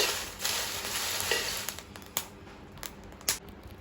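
Dried red chillies dry-roast in a pan for Jaffna curry powder, giving a soft steady rustling hiss broken by scattered crisp scraping stirs and pops, fairly quiet and close with no talk.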